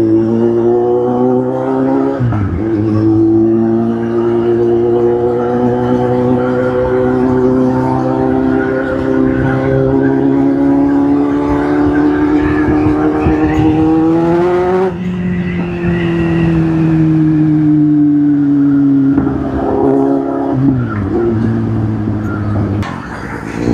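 A car's exhaust note rumbles loud and close in a mall parking area, a steady engine drone with rising and falling revs and gear-change dips, with brief pitch sweeps as it accelerates.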